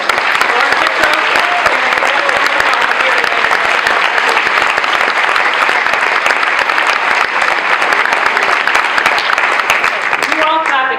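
Sustained, dense applause from a conference audience at an award presentation, steady and loud throughout, with faint voices mixed in near the end.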